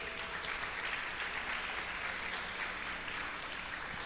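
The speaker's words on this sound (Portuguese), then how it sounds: "Dê uma salva de palmas ao Senhor Jesus." A church congregation claps together in sustained, even applause that sounds fairly distant and soft, holding steady for the whole stretch without talk.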